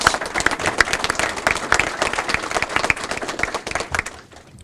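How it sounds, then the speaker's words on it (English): Audience applause at an official press event, a lively burst of many hands clapping close and loud, gradually thinning and fading toward the end. "Let's give her a round of applause."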